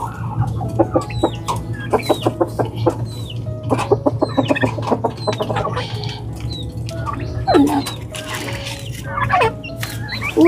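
Chickens clucking loudly and repeatedly at close range during feeding time, with rapid bursts of clucks and cackles over a steady low hum, some gobbling fowl mixed in.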